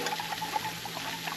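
Water pours into a container for cream of rice, a soft steady trickle with light bubbling, close and quiet with no talking.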